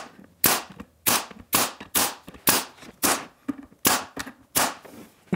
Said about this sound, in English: for this I'm gonna use my staple gun